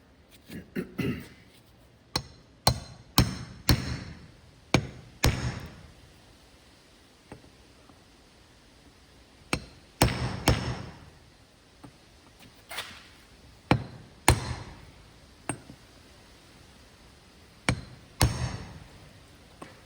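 A 1.25-inch socket is tapped with a hammer to seat a stabilizer seal on a John Deere 260B backhoe, producing sharp metallic knocks in scattered groups with quiet gaps between them, close by.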